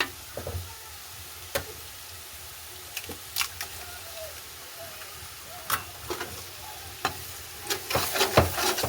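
Carrots, leeks and egg being stir-fried together, a soft low sizzle under sharp intermittent clicks and scrapes of a utensil against the pan, close and quiet with no speech.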